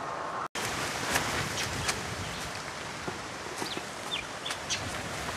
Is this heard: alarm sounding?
no